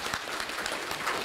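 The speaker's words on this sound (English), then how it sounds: "Let's give him a round of applause." Brief, faint audience applause during a speech on Taiwan, a soft, even patter of many hands clapping, distant and short.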